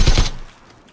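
A short burst of rapid automatic gunfire in the PUBG video game, loud and close, then quickly fading to quiet.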